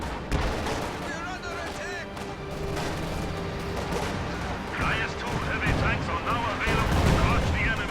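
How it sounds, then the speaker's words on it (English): Panzerwerfer rocket artillery barrage in a war video game, a dense continuous roar of launches and distant blasts layered over rumbling battlefield noise, swelling louder in the final seconds. "I don't know where that Panzerwerfer barrage just fired"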